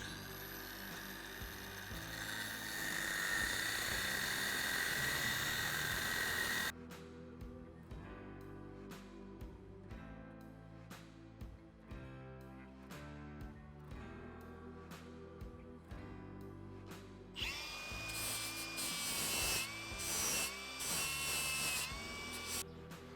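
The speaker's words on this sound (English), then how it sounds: "now we're gonna pull out the old cutoff wheel. We're gonna cut this off" Cutoff wheel cutting a tab off a Harley-Davidson 4 speed swing arm motorcycle frame: a loud high grinding whine at first, then a stretch of rapid metallic taps and clanks, then the shrill cutting resumes.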